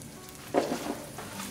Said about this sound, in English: we're going to cook cumin seed for like 20 to 30 seconds